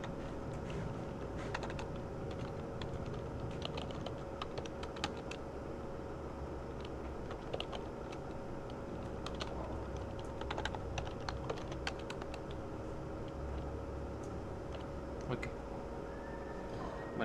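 Steady typing on a Spanish-layout laptop keyboard during a technical talk, with quick irregular key clicks running throughout over a constant room hum and background murmur.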